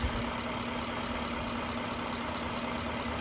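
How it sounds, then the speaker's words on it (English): Hyundai Tau 5.0-litre V8 in a 2020 Genesis G90 5.0 GDi idling, a steady low drone with a constant hum and no speech, holding even in level for the whole stretch. "the TAO 5-liter engine of Hyundai"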